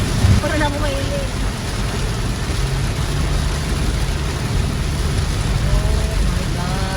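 Heavy rain pours steadily during a storm outdoors at a beach camping trip in Sorsogon, a dense continuous roar with low rumbling underneath, while a few faint voices speak briefly over it.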